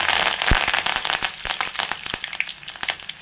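Curry leaves hit hot oil with fenugreek and fennel seeds, bursting into loud, sharp crackles and pops over a hissing sizzle that gradually thins out.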